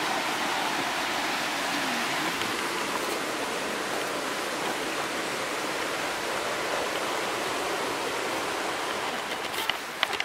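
Water rushing and splashing along a clean river inside Lapa Park's cave area in Minas Gerais, a steady, loud broadband roar that holds constant throughout with no voices.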